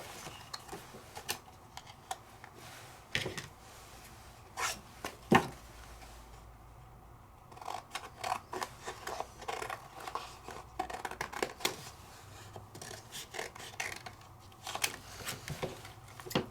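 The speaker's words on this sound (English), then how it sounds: "Let me cut my last two pieces." Paper pieces for a handmade card are cut with a crisp, uneven run of snipping and tapping, close and fairly faint, with clusters of quick cuts separated by short pauses.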